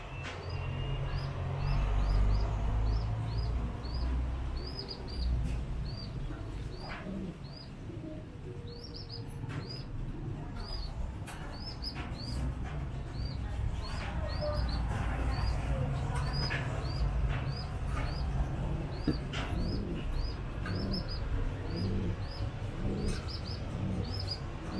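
Pigeons in a loft, a cock and hen being paired, make soft low cooing and rustling under a regular series of high chirps, while someone talks over them at moderate distance.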